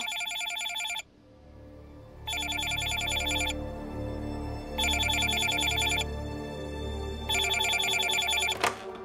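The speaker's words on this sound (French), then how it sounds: "Le téléphone sonne." An old-style telephone bell rings in four long bursts separated by pauses, clear and fairly close, in a quiet indoor room with a brief clunk at the end.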